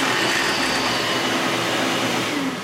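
A surface grinder spindle under DDCSV2.1 CNC control runs with a steady, loud whirring hum that stays close and constant with no talking, then eases slightly at the end.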